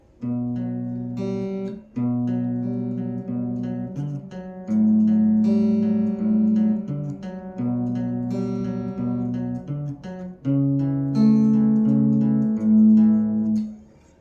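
Clean electric guitar slowly strums a chord progression, each chord held and ringing before the next change, steady and unhurried.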